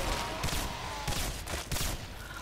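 Gunfire in the first-person shooter Singularity: a dense, loud burst of shots with a few stronger bursts rising from continuous battle noise.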